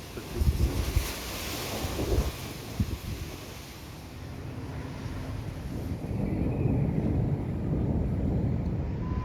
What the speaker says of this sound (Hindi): बड़ी तेज़ हवा चल रही है